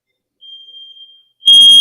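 A smoke alarm goes off indoors during a podcast aftershow. A thin steady electronic tone comes first, then a brief gap, then a loud piercing blare that runs to the end with no talking.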